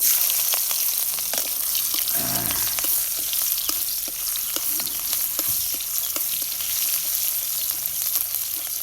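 Chopped onions drop into a little hot oil and fry with a steady, close sizzle, broken by repeated clicks and scrapes of stirring throughout.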